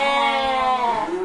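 A Hissar sheep bleats once at a livestock market, a single close, loud, wavering call lasting about a second.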